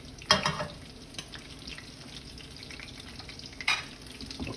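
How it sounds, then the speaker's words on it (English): Breaded oysters fry in hot oil with a steady, faint background sizzle, broken by a couple of brief louder crackling bursts as pieces are moved or stirred. "if you got your oil right, nice and breaded, these fry up pretty quickly"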